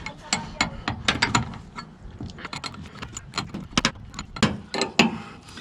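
A ratchet tightens down the rear shock on a Toyota Tundra, producing rapid bursts of close, metallic clicking in uneven strokes with short pauses between them.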